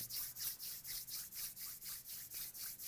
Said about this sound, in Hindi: दोनों हाथों को रगड़ेंगे यहाँ पर